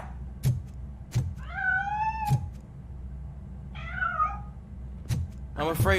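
A cat meows in the futuristic shooter RoboCop: Rogue City, two clear meows in the middle of steady, heavy footsteps and mechanical thuds.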